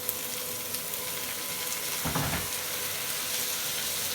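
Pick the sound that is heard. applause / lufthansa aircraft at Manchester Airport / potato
potato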